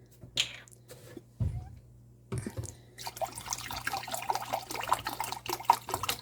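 Distilled white vinegar and water are poured into a pickling brine for peppers, with a few sharp taps first and then a steady splashing pour into liquid, close and clear.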